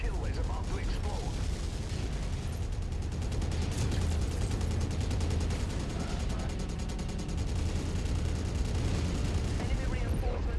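A mech exploding in MechWarrior 5: Mercenaries amid heavy weapons fire, dense rumbling blasts and crackling bursts rolling on without pause, with speech partly mixed in.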